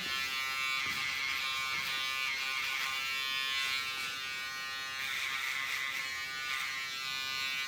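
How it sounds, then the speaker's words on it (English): Electric foil shaver buzzing steadily and close up as it is worked around the hairline during a short men's fade haircut, a continuous bright whine with slight shifts in pitch as it moves. "So I'm just using the foils around the hairline."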